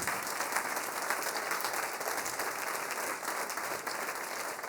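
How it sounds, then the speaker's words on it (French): Sustained applause from a large concert audience fills the whole stretch, even and continuous, with a faint steady tone underneath. "C'est beau, on peut l'applaudir."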